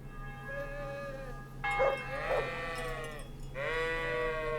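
A goat in the video game Kingdom Come: Deliverance lets out a couple of wavering, nasal bleats, then a longer one, over a steady low background hum.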